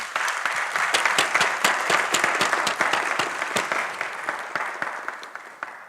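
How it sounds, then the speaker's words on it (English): Audience applause at a university graduation ceremony for economics and management sciences, many hands clapping in a brisk, crackling patter that stays strong before tapering slightly near the end. "may we please applaud them, ladies and gentlemen"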